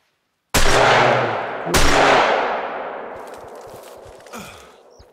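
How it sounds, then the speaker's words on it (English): Two loud, close shotgun blasts about a second apart in the Call of the Wild hunting game during a bear hunt, each with a long echoing decay across open terrain, followed by faint rustling and a small later thump. "Ah, the shotgun is too slow."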